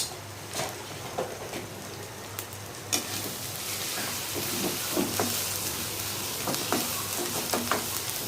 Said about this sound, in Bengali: এখন আমি ভালো করে ভাজা দিয়ে নেব।